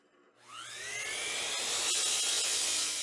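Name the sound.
drilling a hole in plywood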